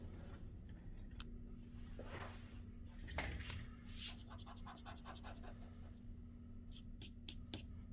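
Pencil erasing on paper during a two-point perspective building drawing, quiet scratchy rubbing strokes with a faint hum underneath, coming in short bursts near the end.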